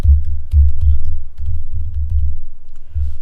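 Code is typed on a computer keyboard for an Arduino LCD program: a steady, fast run of muffled, thudding keystrokes with brief pauses, close and fairly loud, with no talking.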